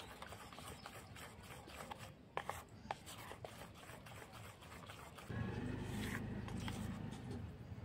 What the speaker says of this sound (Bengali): কোকো পাউডারটা দিয়ে আমি আবারও ভালোভাবে মিশিয়ে নিচ্ছি।